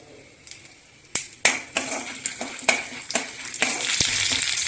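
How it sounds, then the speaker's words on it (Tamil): Dried chillies, mustard seeds and chana dal crackle and sizzle in hot oil in a pan for rava upma, with sharp pops and spattering bursts over a steady, rising fry hiss. "மிளகா போடுறேன், கடுகு போடுறேன், கடலைப்பருப்பு போட்டுக்கிறேன்"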